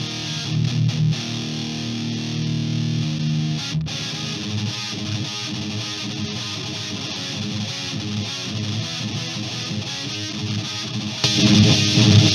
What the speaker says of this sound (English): Let's try with a distortion pedal.